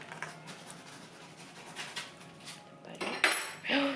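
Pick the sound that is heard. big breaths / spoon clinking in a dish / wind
spoon clinking in a dish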